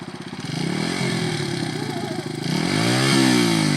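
Dirt bike engine revving up close, a steady throaty idle climbing into higher revs with pitch rising and falling, loud and continuous throughout.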